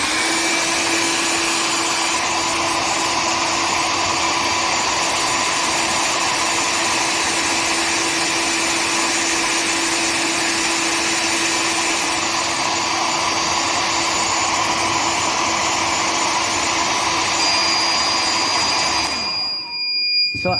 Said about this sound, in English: I will start by heating it using a hair dryer so that it provides an even heat.